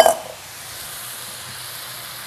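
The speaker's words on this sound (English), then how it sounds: "you can see our onions, the garlic and everything, they're cooking up really well" Onions and garlic frying in a pan, a short stir or clatter at the start and then a soft, even sizzling hiss close by, with no speech.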